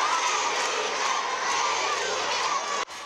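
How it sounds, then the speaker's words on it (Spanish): Loud, continuous roar of a large crowd cheering and applauding in a bullring plaza, about 2,500 people greeting a king, with children's shouts mixed in; the din holds steady and then cuts off abruptly near the end. "Ensordecedor entre vítores"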